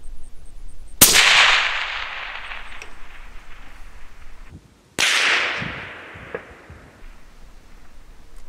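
Two sharp, loud rifle cracks about four seconds apart, fired at a target a mile away, each followed by a long rolling echo that fades slowly across open ground.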